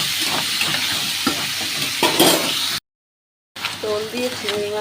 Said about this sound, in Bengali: নুন দিয়ে দেবো, হলুদ অল্প সামান্য একটু পোস্তের জন্য লঙ্কার গুঁড়ো দিয়ে আমি তাকে খুব ভালো করে কষিয়ে নেব